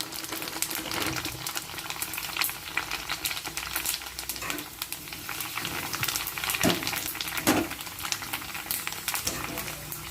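Hot oil spits and crackles steadily during home frying, a continuous close sizzle with sharper pops scattered through it and faint background activity.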